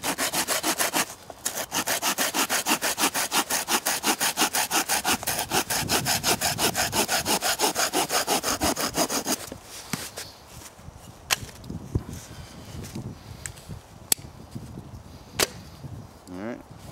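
A hand saw cuts through a pine baton outdoors, a fast, steady run of close rasping strokes for about nine seconds, then scattered knocks and handling sounds.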